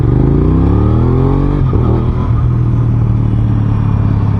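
A 2021 Aprilia RS660 sportbike revving hard in first gear in dynamic mode, its engine note climbing in a steady rising pitch, dipping at about 1.6 seconds, then holding a loud, close, even drone with no talk.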